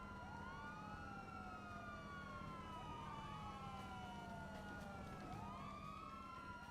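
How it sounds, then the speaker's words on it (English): Several police sirens wail together in a video game's city streets, overlapping rising and falling tones sweeping continuously with a low traffic rumble beneath, steady and moderately distant. "All you ever hear is the wailing of the sirens in this game"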